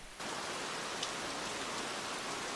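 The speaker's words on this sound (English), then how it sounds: "When rain soaks New Guinea, nothing and no one escapes the deluge." Heavy tropical rain pours down in New Guinea, a dense, steady hiss that starts abruptly and holds at an even, loud level with no voices.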